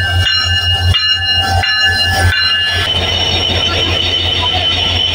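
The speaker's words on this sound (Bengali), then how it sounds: "এই যে আমার ট্রেন চলে আসছে" A train pulls into a station platform, its wheels squealing loudly and rails clattering close by, with a steady rumbling roar and shrill metallic screeches throughout.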